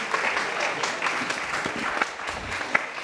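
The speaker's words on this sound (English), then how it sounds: "a round of applause for Indoor Sun Hydro for hosting us" A live audience at an industry meetup hosted by a hydroponics store gives a round of applause, dense continuous clapping heard from the crowd at a steady level throughout.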